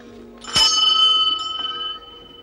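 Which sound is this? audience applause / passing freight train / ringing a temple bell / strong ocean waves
ringing a temple bell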